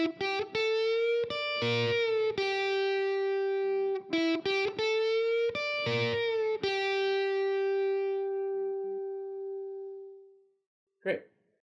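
An electric guitar phrase with a half-step bend, played close and clean: a string of picked notes with a sustained bent note that rings out and fades, then one short final pluck.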